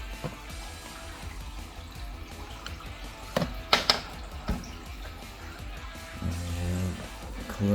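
Water sloshes and drips faintly as a water bowl is taken from a taipan's enclosure, with a few soft knocks and clinks partway through.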